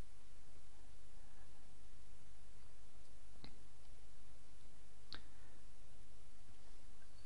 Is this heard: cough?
no